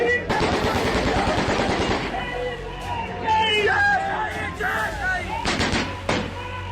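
Gunfire crackles in rapid bursts amid a chanting, shouting crowd, with someone talking over the din.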